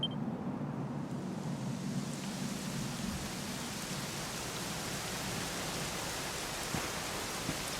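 Rain falling in the Dragon Quest XI video game: a steady, soft hiss of rainfall with a low rumbling undertone and occasional faint drop ticks, continuous and moderately quiet throughout.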